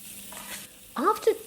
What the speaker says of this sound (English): keep stirring and frying in the oil